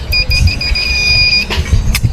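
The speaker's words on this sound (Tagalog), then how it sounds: "gamit muna tayo ng buzzer para sa mga capacitor natin" A multimeter's buzzer gives a steady high electronic beep holding for over a second while testing capacitors, then stops, with brief clicks and handling noise afterward.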